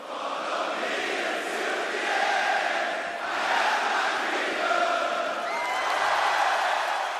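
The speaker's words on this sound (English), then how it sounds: "Crowd singing along with his banger theme song." WWE wrestling arena crowd singing along with an entrance theme song: a massed chorus of voices swells and falls in long waves, steady and fairly distant, with no individual voice standing out.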